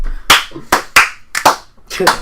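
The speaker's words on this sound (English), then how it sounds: "Let's start clapping for ourselves." A small group claps in uneven bursts, several sharp hand strikes landing close together with brief pauses between them.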